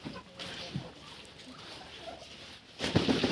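Young ducks peck at snow in a farmyard, giving faint, scattered calls and pattering sounds, with a louder flurry near the end and people talking nearby.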